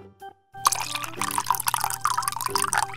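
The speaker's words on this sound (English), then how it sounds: "she's going to get off and flush the toilet" A toy toilet flushes with a loud rushing, gurgling water sound that starts suddenly after a few small clicks and fills the rest of the moment, with no talking over it.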